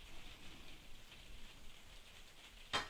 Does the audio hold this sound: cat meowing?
no